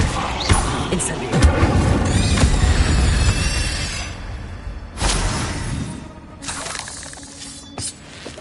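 Incendio fire spell cast in Hogwarts Legacy, a loud whooshing burst of flame with crackling and booming impacts, followed by further shorter magical blasts and fading hiss.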